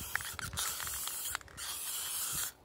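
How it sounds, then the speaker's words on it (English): Plastic Coat clear sealant sprayed from an aerosol can onto a rubber-stamped craft coaster, a few short close hissing bursts separated by brief pauses, with faint clicks of the nozzle and no talking. "quick sprays like that"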